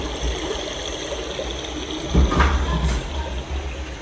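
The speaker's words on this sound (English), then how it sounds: "there's a little panel when you sit down that starts playing water rushing noises to cover up any noises you're making in your stall" A Japanese restroom privacy sound panel at Tokyo Disney plays a continuous rushing-water noise, a steady hiss of flowing water with a brief louder swell partway through.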